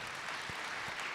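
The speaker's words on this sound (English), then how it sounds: "Round of applause for them as well" Brief burst of audience applause for a United Way steering committee at a hospital leadership away day, a steady wash of clapping from a crowd heard at moderate level with no voices over it.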